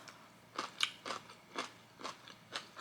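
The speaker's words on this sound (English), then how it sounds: "I'm gonna eat the spiciest kimchi in the world in small pieces" Close, crisp bites and crunchy chewing of very spicy kimchi come in a steady rhythm of about six distinct crunches, with no talking.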